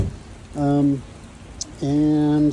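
Heavy rain falls steadily on a campsite as a soft, constant hiss underneath a person speaking in two drawn-out bursts.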